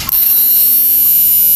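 A first-model 86000 W power inverter switches on with a short click, then settles into a loud, steady electrical hum with a high whine on top, close and unbroken.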